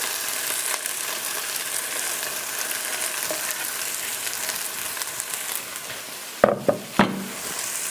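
Steady sizzling and frying fills the clip, then a few sharp scraping knocks near the end as a spoon stirs chopped zucchini and other vegetables in a soup pot.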